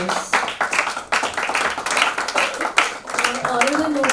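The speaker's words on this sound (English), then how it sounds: "A big round of applause for her." An audience at a business networking meet applauds with dense, continuous clapping that holds at an even level for several seconds.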